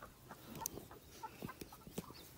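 Backyard chickens cluck softly and intermittently, with scattered short calls at a distance that stay faint against quiet outdoor background noise.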